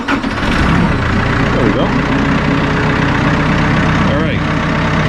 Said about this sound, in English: So let's fire the tractor up here, and we'll see how this does.